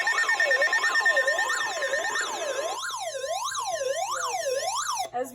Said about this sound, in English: Environnement Canada a émis une alerte dans votre région.